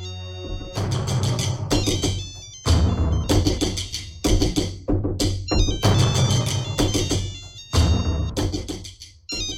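A mobile phone ringing in a home drama scene, a bright electronic ringtone repeating in loud bursts separated by short pauses, close and clear, no talking over it.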